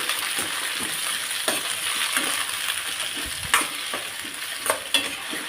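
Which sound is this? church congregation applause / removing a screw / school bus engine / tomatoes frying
tomatoes frying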